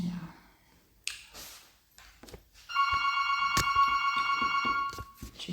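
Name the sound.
mobile phone ringing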